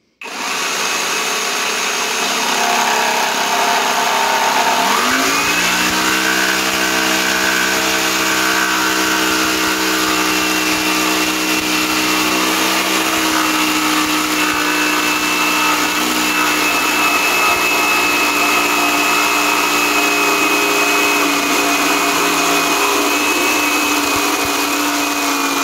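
A Parkside Performance PSSPA 20-Li A1 cordless jigsaw making a 45-degree bevel cut: a quiet start, then the motor spins up and runs steadily with a loud, even buzzing whine until the end.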